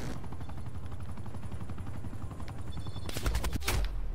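Gunfire in the video game Call of Duty: Black Ops Cold War, a sniping kill: rapid, dense shots rattling over steady game noise, ending in a louder, sharper burst near the end, with no talk.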